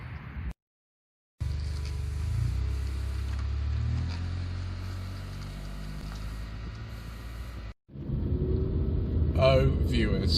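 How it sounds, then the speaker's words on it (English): A 1995 Honda Civic EG 1.5 LSi automatic three-door with a D series engine, driving: a steady low engine rumble and drone from inside the cabin, dropping out briefly, then returning a little louder. "I am really pleased to be driving a car with the good old D series engine in it again"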